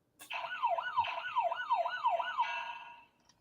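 A toy siren warbles in a steady rising-and-falling wail, fairly close and loud, about six regular sweeps over roughly three seconds, then cutting off; no voice imitates it.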